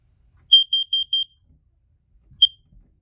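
A smoke alarm under test gives four rapid piercing high-pitched beeps in quick succession, then one more single beep after a pause, loud and close in an otherwise quiet room.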